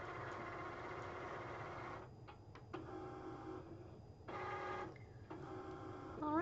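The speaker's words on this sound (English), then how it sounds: "as soon as the Cricut is finished doing all of its measurements and it cuts that out" A Cricut cutting machine measures and cuts paper, its motor whirring in start-stop bursts with short pauses and faint clicks, close and fairly quiet.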